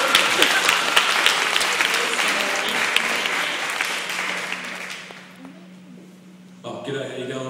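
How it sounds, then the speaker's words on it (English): Convention audience at a SupaNova Q&A applauding: loud crowd clapping that gradually fades out, followed by voices talking near the end. "You should applaud her when she gets paid for that."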